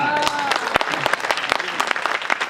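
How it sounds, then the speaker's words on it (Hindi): An audience at a Hindi kavi sammelan poetry recital claps loudly and continuously with sharp, dense hand claps, close by, over a brief murmur of voices. "ऐसे नहीं, ताली बजा के बताओ।"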